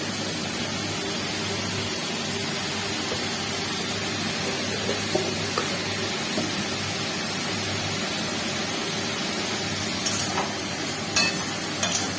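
Carrots frying in a pan with salt and turmeric give a steady, even sizzle across the whole span, with a few faint utensil clicks near the end and no talk.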